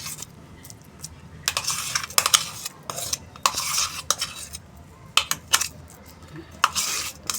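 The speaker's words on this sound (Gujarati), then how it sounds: "આ બધી જ વસ્તુ બરાબર મિક્સ કરવાની છે." A ground dal batter of moth, urad and chana dal being mixed for posh vada, with irregular clinks and scrapes of a spoon against a bowl over a quiet room and no speech.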